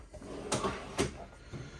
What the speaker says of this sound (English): along with a pull-out drawer.